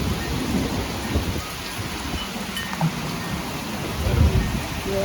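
Strong evening thunderstorm in Plum, Pennsylvania: steady heavy rain hiss with low rolling thunder rumbles, a deeper boom near the end, moderately loud and without talk.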